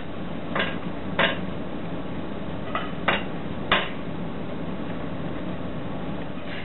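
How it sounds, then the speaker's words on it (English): A spoon clinks against a baking dish as stuffing mixture is scooped into eggplant halves: about five sharp, close taps spaced irregularly over a soft steady hiss, with no voices. "now I'm going to spoon the mixture into the eggplant halves"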